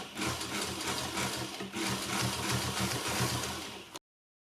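A sewing machine top-stitching the inside side front panel of a corset bodysuit runs steadily and close for about four seconds, with a brief dip midway, then cuts off.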